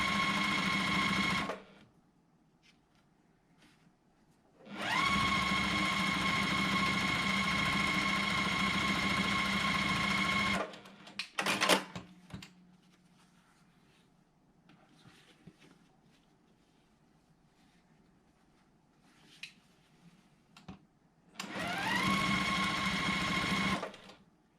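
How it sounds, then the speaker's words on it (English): A sewing machine joins pressed rows of a nine-patch quilt block, running in three loud, steady bursts of stitching separated by quiet pauses with faint handling noises, with no talking. "now I'm going to nest those seams and sew together the rows to make the 9 patch"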